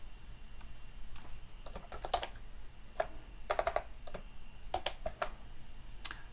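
Computer keyboard typing while text is edited in Adobe Illustrator, with irregular bursts of close, crisp key clicks spread across the stretch and brief pauses between the bursts.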